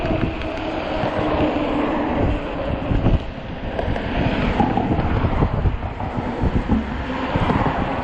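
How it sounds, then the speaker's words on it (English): Cold, frigid wind buffets the microphone during a ride on a 20-inch 48V Ecotric fat-tire e-bike, a steady loud broadband roar with gusty surges throughout. "There's a frigid wind."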